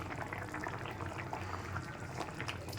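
Rohu fish curry with taro roots simmers in a pot, giving a continuous soft bubbling and gentle sizzling that stays steady throughout at moderate loudness.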